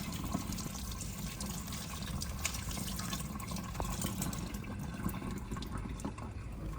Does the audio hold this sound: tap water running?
yes